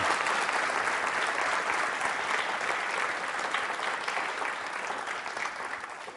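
Sustained applause from a university quiz-show audience at a Holi event, dense steady clapping filling the room for several seconds with no voices over it.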